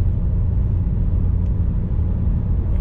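A car driving on a German motorway in strong wind gives a loud, steady low rumble of road and wind noise that fills the whole clip.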